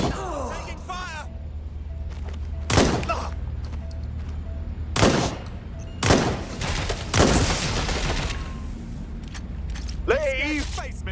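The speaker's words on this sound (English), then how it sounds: "I'm being swarmed here! Taking fire!" Gunfire in Watch Dogs Legion: several sharp, loud shots spaced a second or two apart over a dense mechanical background, with shouting voices in between.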